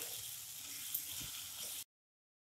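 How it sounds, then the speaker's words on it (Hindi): Garam masala and spices sizzle steadily in oil in a kadhai, a close, continuous hiss that cuts off abruptly into silence. "तो यहाँ पे हम 1 चम्मच भर के गरम मसाला डाल रहे हैं और सारे इंग्रेडिएंट्स को हम अच्छे से भून लेंगे।"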